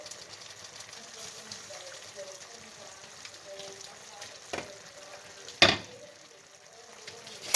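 Chicken and dumplings bubble and simmer quietly in a pot as the lid is lifted, with a sharp clink near the end and soft background voices.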